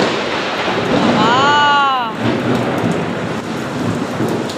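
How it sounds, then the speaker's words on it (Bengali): Heavy rain pours in a constant dense hiss while thunder rumbles through it, loud and close outdoors during a storm, with a brief tonal sound partly buried in the downpour. "সর্বনাশ, কি মেঘ ডাকছে দেখেছো?"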